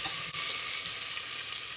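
Onion and crushed garlic fry in hot oil in a village kitchen, a steady close sizzle with a brief stirring knock early on, no talking.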